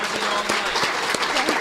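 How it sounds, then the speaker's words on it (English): Audience applause from a live crowd, a dense continuous patter of many hands clapping at steady loudness with no talk over it. "This is more applause than it got."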